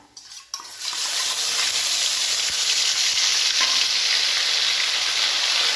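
Ground ginger, cumin and green chilli pastes hitting hot oil with fenugreek seeds in a pan, erupting into a loud, steady, close sizzle after a brief clatter at the start.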